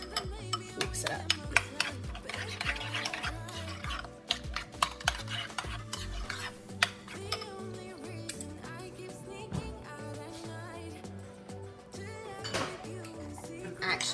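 Food mixture with hot pepper relish stirred in a pan, with repeated scraping and clinking under steady background music, loud throughout with a few sharper knocks.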